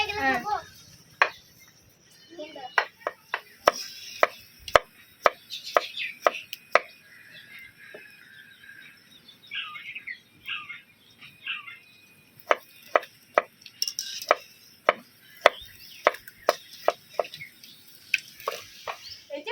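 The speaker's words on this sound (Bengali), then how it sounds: "চলো আমি শসাটা কেটে দিই" Cucumber chopped with a knife on a board, rapid clusters of sharp close knocks in bursts with short pauses between them, over faint kitchen background.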